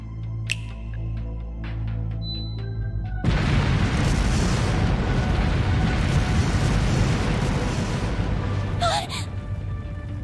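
In the video game Trails Through Daybreak, a palace erupts in a sudden loud blast that becomes a sustained, roaring rumble of explosions. A short vocal gasp precedes it and a high whistling burst comes near the end.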